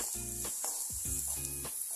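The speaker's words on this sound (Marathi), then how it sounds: "याच तेलामध्ये हा आपला जो मसाला होता आपण तयार केलेला, तो मसाला आपण याच्यामध्ये घालून घेणार आहोत" Spice masala sizzles faintly in hot oil while tempering vadi, a soft continuous hiss broken by a few short, humming tonal bursts, quiet and close.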